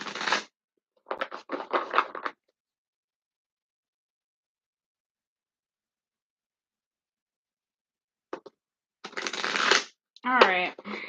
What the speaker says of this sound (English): I'm going to shuffle these 2 more times since the deck acted up when I was trying to shuffle